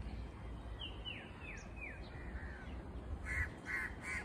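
Several harsh crow caws in a short descending series, fairly distant over steady countryside background noise, with a couple more calls near the end.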